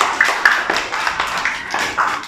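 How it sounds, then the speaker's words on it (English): Children in a playgroup class clapping together, a short burst of loose, uneven claps close by with light voices mixed in. "Clap for Yusuf, all of you."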